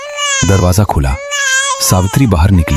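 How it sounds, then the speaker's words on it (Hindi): A newborn baby's first cries wail in a series of high, harmonic sobs with brief breaths between them, loud and close. A voice narrates over the crying in places, setting the scene of a horror story. "बस बच्चे की पहली रोने की आवाज गूंजी।"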